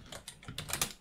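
Quick typing on a computer keyboard, a handful of soft, close key clicks in an uneven rhythm, quiet and alone.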